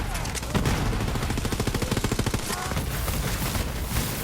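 Rapid automatic gunfire from a small-magazine gun in the video game Borderlands 3 rattles off in a quick, even burst, with more shots scattered before and after under a busy game soundscape.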